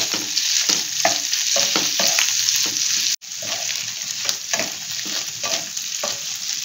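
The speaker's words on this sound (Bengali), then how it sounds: "পনিরটা ভাজা হয়ে গেছে" Cubed paneer frying with onions in a hot pan, a loud continuous sizzle broken by repeated stirring scrapes and clatters, close by and uninterrupted apart from a brief cut midway.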